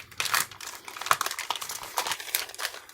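A resealable plastic bag is opened and handled, giving close, quiet crinkling and crackling in irregular bursts with small sharp snaps.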